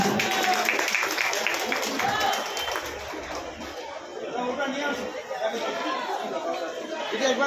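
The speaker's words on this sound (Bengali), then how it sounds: "একটি জোরে হাততালি হোক দিদির জন্য।" An audience claps for a guest at a community blood donation and student award event in Uttar Dum Dum. Sustained, dense applause blends with loud crowd chatter throughout.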